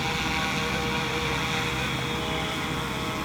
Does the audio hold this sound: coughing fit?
no